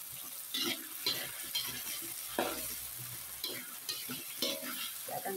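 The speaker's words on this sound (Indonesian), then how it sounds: "kita akan aduk pemirsa" Teriyaki sauce with sweet soy sauce for tempe gembus, sizzling in a pan while being stirred, with a steady frying hiss broken by rhythmic scraping strokes close by.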